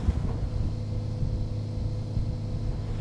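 BWA Sport 28 GTO inflatable boat planing above 11 knots, driven by a Suzuki 55-degree V6 DOHC outboard, gives a steady, close, low engine drone with hull rumble and wind buffeting throughout.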